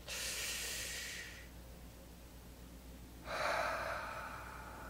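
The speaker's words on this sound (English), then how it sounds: "All right, take a nice deep breath." A slow, deep breath taken during a guided tapping session: a long airy inhale, a pause, then a long hissing exhale, close to the microphone and heard alone.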